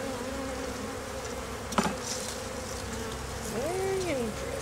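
Honeybees at an open hive make a steady, close buzzing hum throughout, with a brief sharp knock partway and a louder single bee whining past near the end.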